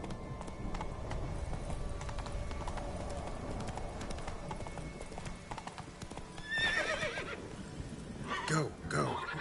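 Hoofbeats of the horse Roach gallop steadily in The Witcher 3, a rapid clip-clop rhythm under outdoor game ambience, followed near the end by a loud, close neigh.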